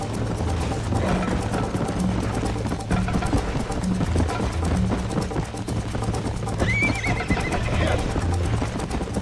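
Horse whinnying and hooves clip-clopping in the game Red Dead Redemption, heard on PC, a rising neigh standing out over steady galloping hoofbeats and a constant low engine-like drone, with faint talk underneath.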